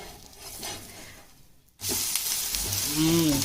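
Uthappam fries in oil on a dosa pan, a soft sizzle that suddenly swells into loud, steady hissing crackle close by, with no talk.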